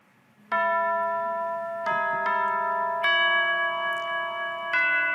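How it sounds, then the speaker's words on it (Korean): A series of bright, sustained electronic chime tones replacing a church bell as the call to worship, sounding in several successive struck notes that ring on and overlap, clear and fairly loud with no talking. "차인벨로 바뀝니다."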